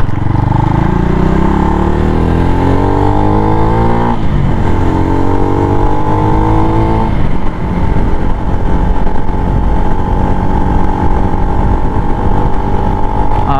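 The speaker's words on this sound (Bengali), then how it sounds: "এর এক্সস্ট সাউন্ড সত্যি অসাধারণ" Exhaust of a Speeder NSX 165R V3 motorcycle roars loud and close, climbing through gears in repeated rising revs before settling into a steady high drone while riding.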